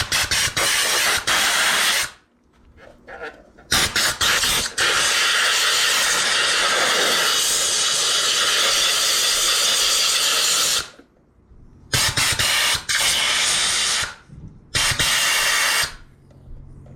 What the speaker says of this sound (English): So first comes some compressed air.